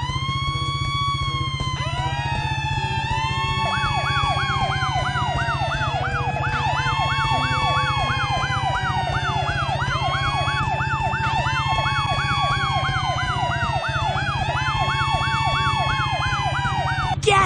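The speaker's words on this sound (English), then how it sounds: "To turn our sirens on and off, use your mouse to click on the fire trucks." Several fire truck sirens wail and whoop at once, loud and continuous, layered over a steady low engine drone, with a synthetic, game-like quality, from a Paw Patrol video game.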